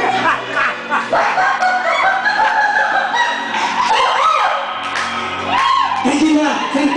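A hypnotized man loudly imitates a hen's clucking and squawking at a stage hypnosis show, his voice rising and breaking in bursts, with other voices and shouts close by.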